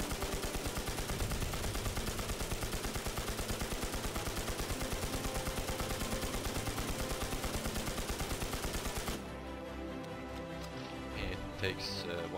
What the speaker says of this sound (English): Just kill him by shooting him in the chest.